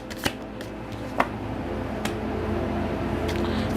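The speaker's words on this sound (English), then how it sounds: "Let me pull a card on that." A tarot card being pulled from a shuffled deck, a few sharp papery snaps and flicks close by over a quiet room hum.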